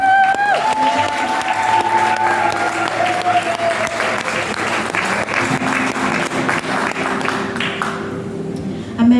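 A church congregation applauds to welcome a speaker, sustained loud clapping with some cheering that carries on for several seconds before fading, while a voice speaks over it.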